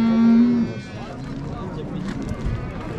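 A cow gives a loud, drawn-out moo at a busy livestock market, then the call fades into crowd murmur and people talking nearby.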